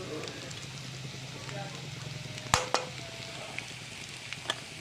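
Potato jeera sabzi cooking in a pan, ground spices such as coriander-cumin powder, garam masala and chili powder sizzling softly while a spoon stirs, with a couple of sharp scrape clicks partway through, all fairly faint and close.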